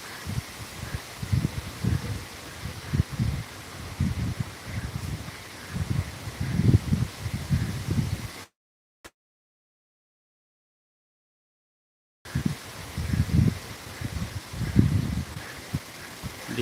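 Strong wind from an approaching typhoon in Borongan thrashes and rustles leaves in steady, gusting surges, broken by a few seconds of total silence partway through before the blustery rustling resumes.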